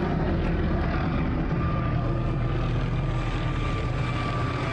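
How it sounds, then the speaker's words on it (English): A helicopter flies overhead at a street protest in Louisville, Kentucky, its steady rotor and engine drone loud and continuous throughout, with no talk. "they got a helicopter watching them"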